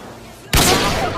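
A single sharp gunshot cracks out loud and close in a first-person shooter killcam, a trickshot headshot kill, followed by a sustained burst of noisy game sound and effects.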